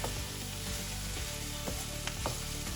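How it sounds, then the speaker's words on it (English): Kale stirred into a hot seasoned pan, with a steady close sizzle and a few sharp scraping strokes of the spoon against the pan. "we will put in the kale and stir it in really good"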